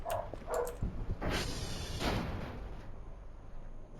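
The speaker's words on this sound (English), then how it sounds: "And sorry about the dogs." Dogs in the video game Voices of the Void give a few quick, sharp barks in a row, followed by a duller rumbling noise that fades into a quiet background hum.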